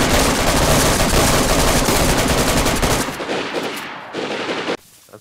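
Sustained rapid gunfire in the video game DayZ, loud and dense for about three seconds, then thinning into scattered bursts before cutting off abruptly.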